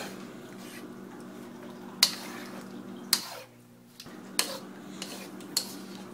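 A utensil stirs coconut milk into shrimp and bamboo shoots in a pan, soft scraping punctuated by several sharp metallic clinks against the pan's side at irregular intervals, close and quiet.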